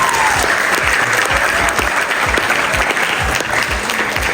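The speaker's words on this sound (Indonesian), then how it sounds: "Berikan aplaus semuanya dulu untuk kita semua." Audience at a school showcase event for seventh and eighth graders clapping together, a loud, dense round of applause sustained throughout with no talk over it.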